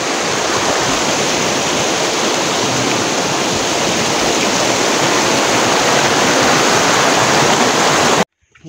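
Heavy rain pours steadily in a village near Pokhara, Nepal, a dense, loud hiss that continues unbroken for about eight seconds and then cuts off suddenly.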